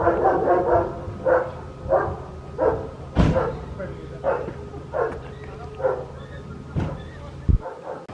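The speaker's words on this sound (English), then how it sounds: "Dogs again." Dogs bark outside HMP Lindholme prison, a former RAF camp, in a steady series of about a dozen loud, evenly spaced barks that sound fairly close, with a short yip near the end.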